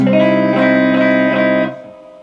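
A sustained, distorted electric guitar chord rings out with a tense, dissonant flat sixth on top of a major chord, then fades out abruptly after about a second and a half.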